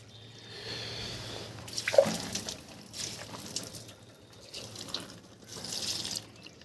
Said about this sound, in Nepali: यहाँनिर छ हाम्रो यो फुलहरूमा अलि पानी हालिदिनुपर्छ क्या